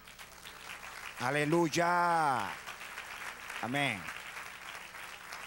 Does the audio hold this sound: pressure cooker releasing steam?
no